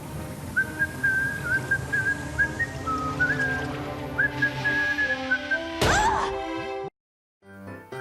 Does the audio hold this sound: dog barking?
no